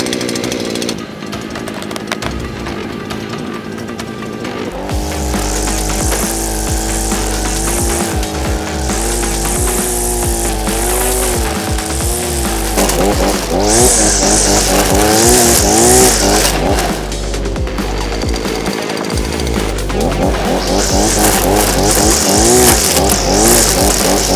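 A SILA BT 4400 petrol grass trimmer starts up and runs loudly, its two-stroke engine revving up and down with a rising and falling whine, close by.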